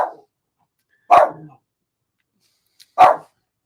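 A dog barks twice, sharp and fairly close, with a pause of nearly two seconds between the barks and silence around them.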